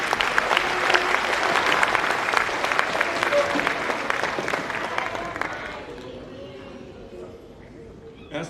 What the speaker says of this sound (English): another round of applause for our students